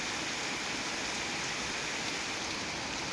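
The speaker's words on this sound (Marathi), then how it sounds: "जिल्ह्याच्या घाटमाथ्याच्या उपनगरात जोरदार पाऊस सुरू आहे।" Heavy rain pours down steadily in Kolhapur district, a dense, continuous hiss that stays loud and unbroken, with no voices.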